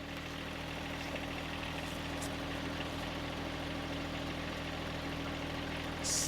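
Two John Deere compact tractors, a 2025R and a 2038R, idle together with a steady, even diesel hum and a low drone. There is no talking, and a brief rustle comes at the end.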